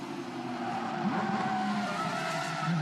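The number 72 Black Falcon Porsche Carrera Cup race car spins a full pirouette at the Nürburgring, tires squealing and skidding over a steady engine drone, with no speech over it.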